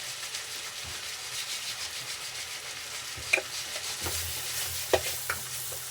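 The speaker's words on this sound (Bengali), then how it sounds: "এবারে আমি মশলাটাকে ভালো করে কষাবো।" Spices with salt and turmeric being stirred and fried for egg curry, a soft continuous sizzle under rubbing, scraping strokes of a spoon against the pan, with a few sharper knocks near the end, close by and without speech.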